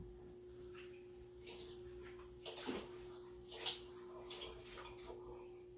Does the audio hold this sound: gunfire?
no